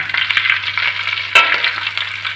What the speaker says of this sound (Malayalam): ഇനി നമുക്ക് അതിലേക്ക് പച്ചമുളക് ഇട്ട് കൊടുക്കാം